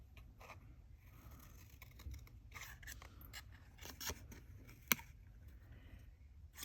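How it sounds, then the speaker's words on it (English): Sharp scissors snip through stiff watercolor paper in a string of quick, irregular close cuts, one crisp louder snip standing out near the end, quiet and with no voices. "when you're using watercolor paper, you see it's pretty stiff, you need some sharp scissors to get around all these little bits"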